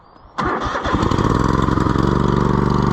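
A Cub Cadet LT1050 riding mower engine cranks briefly, then catches and settles into a loud, steady idle rumble that runs without pause.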